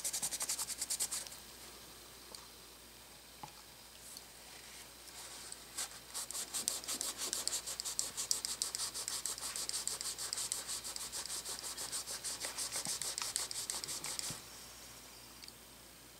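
A cloth rubs back and forth over a metal hinge, scrubbing off gunpowder burn residue with Ballistol oil; close, steady rhythmic scrubbing strokes, brief at first and then continuous for about eight seconds before stopping.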